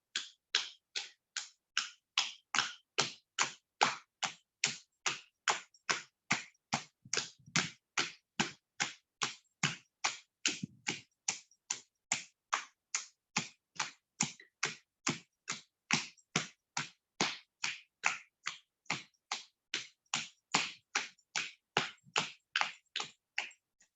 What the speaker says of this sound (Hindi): बहुत अच्छा कर रहे हैं सभी लोग, बजाते रहे ताली